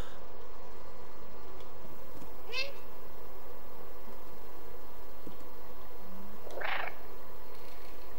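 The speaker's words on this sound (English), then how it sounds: "if I meow" Two short cat meows in the video game Stray sound a few seconds apart over a faint steady background hum, the second slightly louder and longer.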